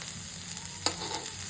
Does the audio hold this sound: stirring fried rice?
yes